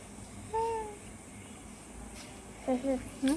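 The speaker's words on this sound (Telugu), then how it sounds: "టూ క్యాట్స్ పోతున్నాయి అవి, పోతున్నాయి." A few soft, brief meows come through faintly against a quiet background, one early on and a short cluster near the end.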